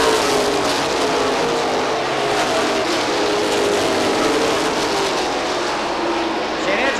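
Pro Stock race cars roar around Seekonk Speedway, a steady, loud wash of engine noise from the pack that fills the whole stretch, heard from a distance with the crowd and track ambience mixed in.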